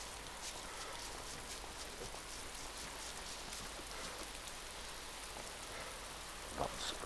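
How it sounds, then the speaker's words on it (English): Steady rain in the video game DayZ patters on a surface, a constant dense hiss with scattered droplet ticks throughout, no talking. "Oh, now it's raining."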